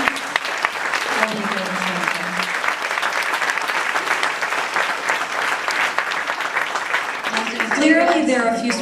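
A small-business crowd at a political speech applauds tax reform and regulatory relief, dense sustained clapping under a speaking voice that runs through much of it and rises at the end.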